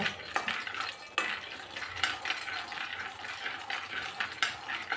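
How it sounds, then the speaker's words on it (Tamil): Cashews fried in a small pan, with a soft continuous sizzle and repeated light scrapes and clinks of a spoon moving them around the metal, close and fairly quiet. "முந்திரி பருப்பு போட்டிருக்கோம்ல, அதையும் நல்லா வறுத்தெடுங்க"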